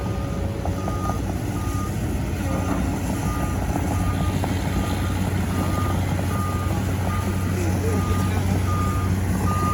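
A road roller's engine drones loudly and steadily while its reversing alarm beeps in an even, repeating pattern throughout, with faint voices in the background.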